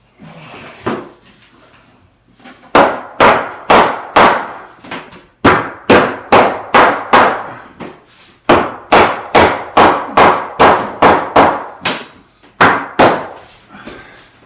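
Loud, sharp hammer blows strike a bathroom fixture to knock it loose during a remodel, landing in quick regular bursts of several hits separated by short pauses, close and ringing.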